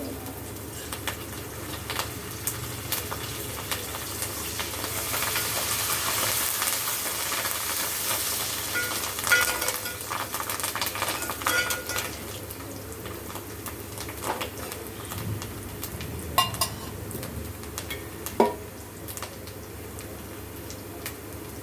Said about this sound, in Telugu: ఉల్లిపాయలు ఫ్రై అయినాయి ఫ్రెండ్స్